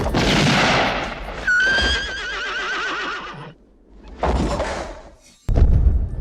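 Several horses neigh loudly in a film shootout scene, a long shrill whinny followed by another burst, with thuds and hoof sounds between calls.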